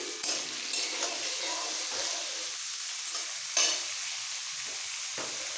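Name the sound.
potato, carrot and cauliflower frying in oil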